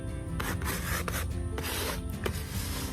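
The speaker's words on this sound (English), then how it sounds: "I'm using this card and I'm just rubbing it across the canvas" A card scrapes and rubs paint across a canvas in steady close strokes, a continuous gritty rasping with rhythmic repeated passes and no talking.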